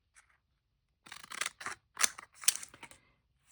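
Deckle-edge scissors snip along the edge of a photo in a series of crisp, close cuts, several quick bursts after a brief pause.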